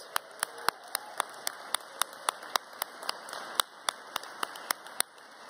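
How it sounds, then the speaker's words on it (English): Sparse, spaced-out clapping from a conference audience at a closing plenary session, soft and somewhat distant, individual claps landing at a steady loose rhythm without talk. "I'd love to give them a round of applause."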